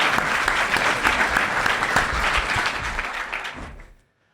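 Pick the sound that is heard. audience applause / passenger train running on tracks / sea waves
audience applause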